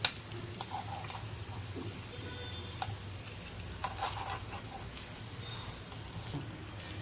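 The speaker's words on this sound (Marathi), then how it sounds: "हे बघा, आता पलटून घेते मी सगळे आप्पे" Oats appe sizzle quietly in an appe pan while being flipped, a soft, steady frying hiss with occasional small clicks and scrapes from turning them.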